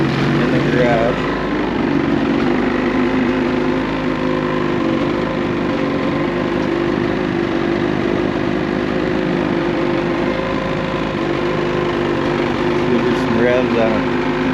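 A 2022 Ski-Doo Renegade 850 snowmobile fitted with an MBRP trail can exhaust idles in a garage, a steady, loud low rumble with a constant drone that never changes pitch throughout.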